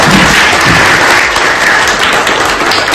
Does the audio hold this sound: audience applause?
yes